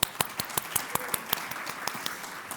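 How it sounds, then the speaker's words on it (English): Audience applause for Congress members and a farm labor organizer at a public talk, with sharp, fairly steady claps ringing out through the room at moderate volume. "Round of applause for the Congress members"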